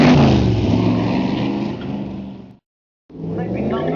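A 510-horsepower sports car engine revs loudly nearby, a harsh rising roar that cuts off abruptly into silence for half a second before the engine comes back in.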